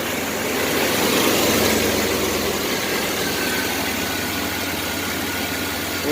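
A Chevrolet S10 Blazer, freshly revived and on new tires, idles steadily nearby with an even low engine hum and slight vibration, running alone without talk for about six seconds.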